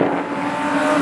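Porsche race car on a circuit, heard as a brief, fairly loud engine roar with a steady pitch, as if passing at speed.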